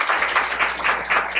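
Brief burst of applause from a conference audience at an AI technology event, a steady mid-level patter of clapping with no voices over it.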